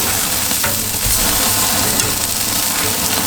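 Burger patty with onion sizzling on a griddle just after flipping, a loud, steady crackle and hiss continuing without pause throughout.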